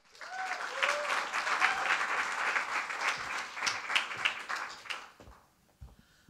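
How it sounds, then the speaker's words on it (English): Audience applause at a state poetry recitation final, a full room clapping steadily with a few whoops, then thinning out to scattered claps as it fades. "From Woodbury High School, please give it up for Chloe Spencer."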